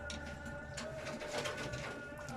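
Pigeons coo softly amid a steady hum of background noise, with soft low calls repeating across a couple of seconds.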